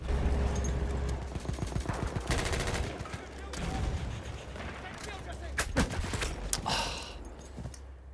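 Rapid bursts of M1919 submachine gun fire in the Battlefield 1 Annihilator trench loadout, crackling in fast repeated volleys with sharp single reports and mechanical clatter, loud and close throughout with no talking.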